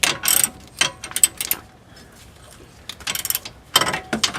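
A ratchet socket wrench tightens a nut during a rear lift install on a Subaru Outback, sending out quick bursts of clicking in short runs separated by pauses.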